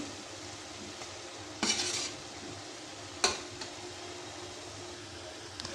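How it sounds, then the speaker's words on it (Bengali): Fried prawns being stirred into cooked spice masala in a pan give a quiet, low sizzle, punctuated by two brief bursts of scraping and utensil clatter. "এই যে মশলাটা বাঁধা হয়ে গেল এটার সাথে আমি চিংড়ি মাছটা দিয়ে দেব চিংড়ি মাছটা প্রথমে ভেজে রেখেছি"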